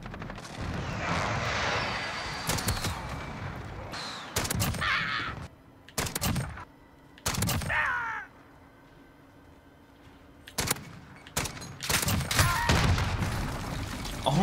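Dragunov rifle gunfire in a video game: several sharp, loud individual shots spaced apart, set over steady game background noise.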